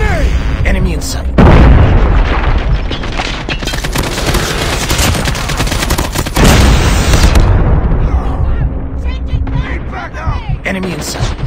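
A Call of Duty battle plays out with grenade blasts and booming explosions over bursts of gunfire. Loud, dense impacts come in waves, and in-game voices call out over the action.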